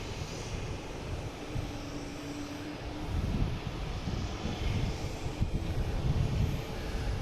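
American Airlines flight 2815 from Chicago coming in to land, its engines a broad rumbling roar that swells steadily louder as it nears, with no voices.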